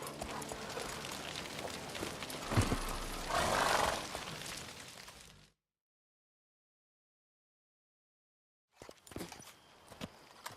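Hooves of Roach, Geralt's horse in The Witcher 3, clattering along at speed for several seconds, then a stretch of total silence before a few more scattered hoof and movement sounds return.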